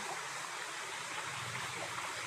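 River water rushes steadily as a broad, even wash of close flowing water, with no break and no voices.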